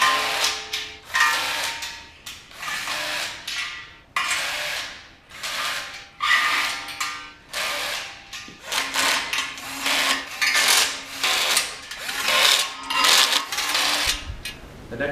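A power driver with a flexible extension runs down bolts on a steel shelving build, repeated loud bursts of whirring and ratcheting clatter separated by short pauses, close and dominant with no talk.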